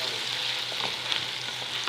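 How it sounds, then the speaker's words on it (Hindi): Ginger and garlic fry in hot oil for a Pakistani-style chicken macaroni, producing a continuous close sizzle with light crackling bursts and no speech. "अब इसमें डाल देंगे अदरक लहसुन"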